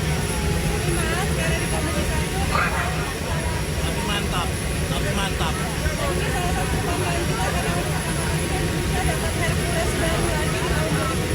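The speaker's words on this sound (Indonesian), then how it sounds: "Pesawatnya di luar kebiasaan pesawat komersial." A non-commercial aircraft carrying cabinet members fills the cabin with a steady, loud engine drone that never lets up, with a brief spoken remark on top.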